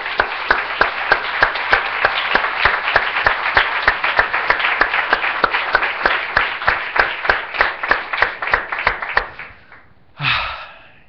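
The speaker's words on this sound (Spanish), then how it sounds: "Démosle un aplauso al Señor." A church congregation at a Spanish-language service claps in unison, a close, crisp, regular rhythm of single claps for about nine seconds before it fades, followed by a brief exclamation.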